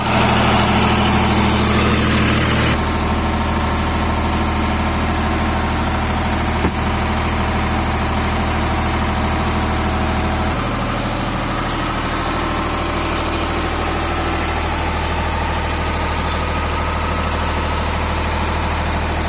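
Motorbike engine idling, a loud, steady close-up rumble that runs unbroken for the whole stretch with only slight shifts in tone, with no talk over it.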